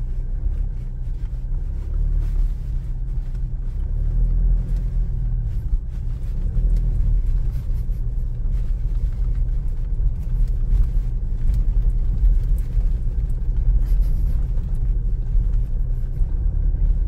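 A 2017 Toyota SW4 SUV rolls slowly with a steady low road and engine rumble throughout, a faint light rattle from the rear barely standing out above the continuous drone.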